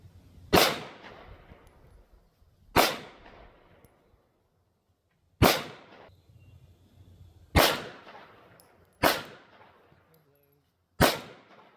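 Six sharp pistol shots fired strong hand only at targets on a range, each a loud crack with a short decaying echo, spaced about two seconds apart with silence between.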